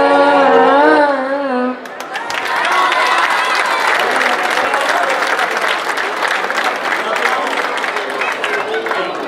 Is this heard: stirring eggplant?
no